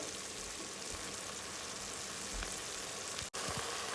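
Oxtail sizzles steadily in a pot, a close, continuous frying hiss with a few soft pops and stirring sounds, and no one speaking.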